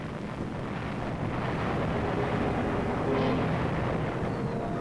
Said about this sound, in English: An ammunition dump goes up,